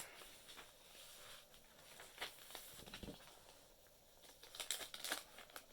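Handmade journal pages of coffee-dyed graph paper crinkle and rustle close by in scattered soft bursts, growing busier toward the end.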